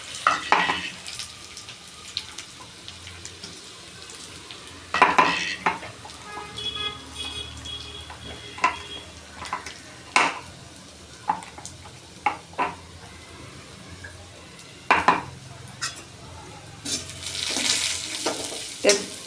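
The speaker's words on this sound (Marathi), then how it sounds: "ते तेलामध्ये चांगलं परतून घ्यायचं आहे." Chopped garlic, peanuts and green chili frying in hot oil for a fenugreek-leaf dish, with a continuous close sizzle and frequent spoon scrapes and knocks against the pan as it is stirred, no voices.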